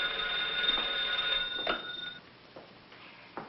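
A telephone bell rings in a domestic interior, a bright sustained ring with steady tonal harmonics for about two seconds, then fading out, with faint room noise and no speech.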